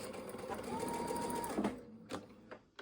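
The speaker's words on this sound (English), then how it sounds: "I have the scissor cutter on my sewing machine" A sewing machine whirs steadily for about a second and a half, then stops, followed by a few soft clicks and handling noises.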